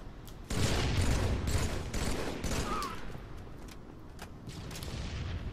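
Halo 3 gunfire and grenade blasts burst loudly in rapid, clustered volleys, with a booming explosion near the start followed by scattered shots and rumbling decay.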